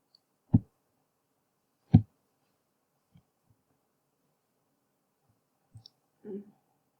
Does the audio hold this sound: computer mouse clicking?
yes